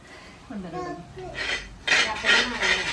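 Spoon scraping and clinking against a pan while masala is stirred and cooked until the mint oil separates, in several bursts of scraping over a low kitchen background, with a faint voice in the first half.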